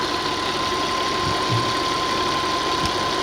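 A 2003 Audi Allroad 2.7 twin turbo engine idles after running about twenty minutes, a steady close rumble with a constant whine and a few soft knocks, no voices.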